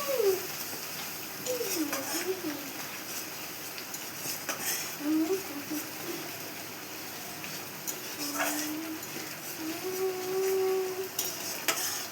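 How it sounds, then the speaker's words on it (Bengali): Soft sizzling of spices frying in a pan, with occasional stirring and scraping, while someone speaks faintly in the background. "মশলাটা আমার ভাজা হয়ে গেছে"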